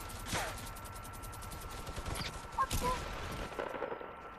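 Minigun fire in an online video game, rapid bursts of shots in a couple of clusters over steady game background noise, fairly faint overall.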